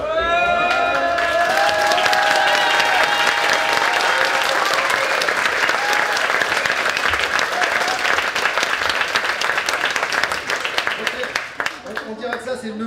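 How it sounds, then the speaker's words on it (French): An audience at a costume contest bursts into sustained applause, with dense clapping, cheering and children shouting, loud and continuous before tapering off near the end. "On peut vous tester un petit peu pour voir si vous allez applaudir un peu mieux que ça ou pas?"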